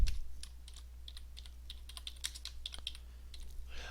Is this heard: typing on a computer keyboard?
yes